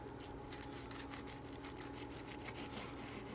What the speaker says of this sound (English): You wanna use a bread knife because it just comes out so much better.